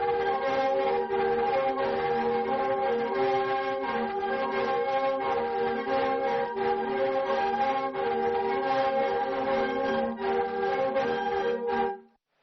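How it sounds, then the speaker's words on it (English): Lusheng reed pipes played in the Miao village of Biasha, sounding as a steady, loud chorus of sustained reedy chords with a slight rhythmic pulse, ending abruptly. "Here, we are welcomed by the sound of the lusheng."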